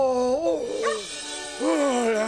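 A cartoon dog in an animated fire-rescue show gives yipping, whimpering barks with a sliding, voice-like pitch, two close loud bursts separated by a short pause, played alone without other talk.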